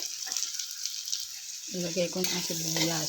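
Onions for bangus sisig sizzle in a hot pan, a steady hiss that carries throughout, while a voice speaks over it in the second half.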